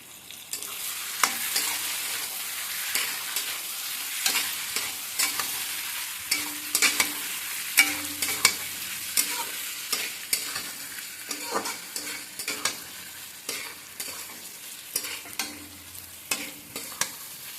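Fried potatoes and their oil are stirred into a simmering chicken curry with banana flower in a pan, giving a steady sizzle broken by frequent scraping and clinking spatula strokes throughout, with no talking.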